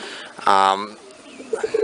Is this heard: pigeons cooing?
yes